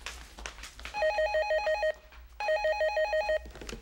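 A home telephone rings in two bursts of rapid electronic trilling, each lasting about a second with a short gap between, loud and clear over a quiet room.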